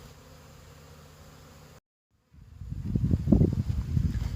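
Italian honey bees at a big opened spring hive produce a low, fluctuating buzz that swells loudly after a brief silent gap, preceded by a fainter steady hum, with no talking.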